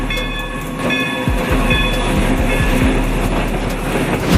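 Steam and diesel locomotives run close by, a loud steady rumble with rhythmic clickety-clack of wheels over rail joints and a sustained tonal whistle or horn layer.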